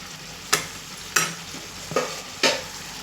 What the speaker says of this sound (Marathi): भाजी माझी शिजत आली आहे.